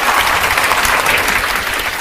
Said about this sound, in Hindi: इनकी सफलता के लिए जोर से ताली होना चाहिए